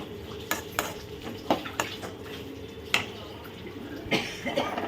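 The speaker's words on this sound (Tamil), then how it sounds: "நம்ம கீரையை போட்டு நல்லா கலக்கி விட்டுடலாம்" Light clinks and scraping taps of a utensil stirring greens in a pot of boiling water, irregular and close, over a faint watery bubbling background.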